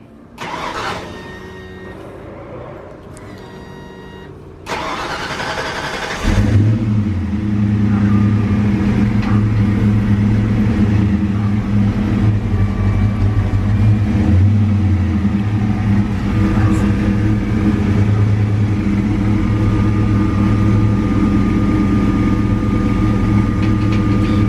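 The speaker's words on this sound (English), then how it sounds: "You guys are gonna hear a cold start." A Ford Foxbody Mustang is cold started: cranking and clicking, then the engine catches and settles into a loud, steady rumbling idle with two brief revs, nearby and continuous, with people talking briefly beforehand.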